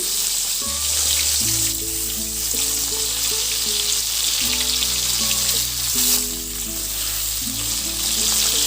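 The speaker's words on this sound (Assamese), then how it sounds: "এয়া মাছখিনি ভজা প্ৰায় হ'ব।" Three pieces of rohu fish fry in a pan with a continuous sizzle, close and even throughout, under background music.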